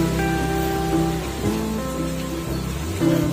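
Rain falls steadily in an outdoor bonsai garden, a dense close patter over a broad wash of noise, with faint tonal hums running beneath and no talk.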